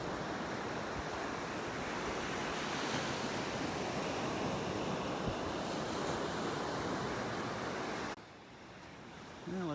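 Ocean waves wash onto a beach in North Naples, Florida, a constant broad roar of surf mixed with wind buffeting the microphone, briefly quieter near the end.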